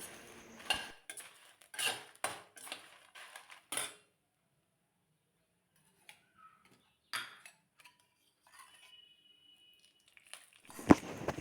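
Urad dal and dried red chillies dry-roasting in a pan: scattered clinks and scrapes of a spoon against metal in short bursts, separated by near silence and a few faint crackles.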